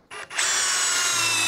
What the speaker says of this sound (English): Now last for the big battery and highest gear, we've got the Ryobi. Also really loud on this one,